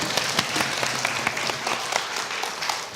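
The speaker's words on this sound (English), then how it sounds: "Round of applause" Steady applause from a concert audience at a schools orchestra performance, dense and continuous with sharper claps standing out, moderately loud throughout.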